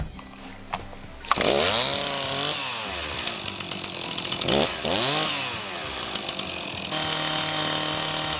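A Stihl MS260 chainsaw runs loud and close, starting up and then revving up and down several times before settling into a steady high whine, with no cutting heard.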